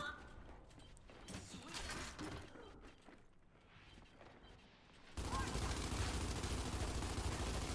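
Gunfire in the Gears 5 video game, rapid automatic shots that build into a dense, continuous loud burst near the end, with players talking over it.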